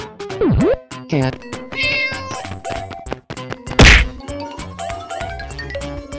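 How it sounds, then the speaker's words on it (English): A cat meows several times among sound effects, including a sharp thwack midway and chimes, with a voice speaking at points. "Cat."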